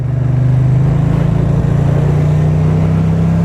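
An older motorcycle's engine idles and revs nearby, a loud, steady low throb with a fast rhythmic pulse and slight pitch rises throughout.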